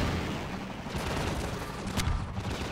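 Gunfire from the video game Half-Life 2, a dense continuous rattle of shots with a sharper burst near the end, fairly loud and steady throughout.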